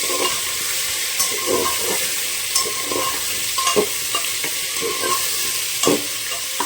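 Potato, onion and tomato frying together in a pan, a steady sizzle close by with repeated scraping stirs of a spatula every second or so.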